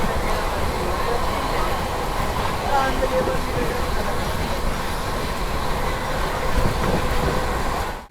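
The Vikramshila Express train at a station, a steady dense rumble of railway cars with a constant broadband roar throughout.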